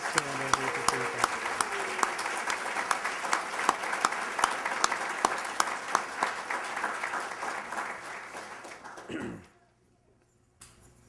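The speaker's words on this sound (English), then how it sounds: "I want you to applaud them because they are an outstanding group of people" An audience at a nursing pinning ceremony claps in sustained, dense applause with distinct loud claps on top, tapering off and fading out near the end.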